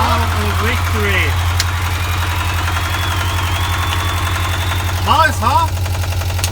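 Repaired sailboat engine idling steadily with a constant low rhythmic throb throughout, while people talk over it in two bursts.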